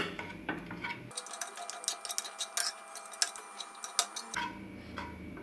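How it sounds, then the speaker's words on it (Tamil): A hand masher crushes tomato, potato, green peas and cauliflower in a pan for pav bhaji, making a run of light, irregular tapping clicks and soft clatters, close and fairly quiet. "ஒரு மேஷர் வச்சு நல்லா நசுக்கிக்கோங்க. தக்காளி, உருளைக்கிழங்கு, பச்சை பட்டாணி, காலிஃப்ளவர் நல்லா நசுக்கிக்கோங்க."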